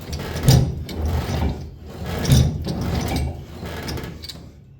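A fender roller tool worked back and forth on a vehicle fender gives a rhythmic, close-up mechanical ratcheting and grinding that swells and fades with each stroke.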